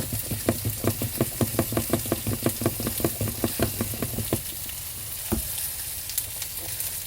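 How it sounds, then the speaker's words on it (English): Cooked farro is drained in a small kitchen and put back into its pot, heard as a close run of about twenty quick, even taps followed by one heavier knock, with no talking. "I'm going to drain it and return it back to its pot"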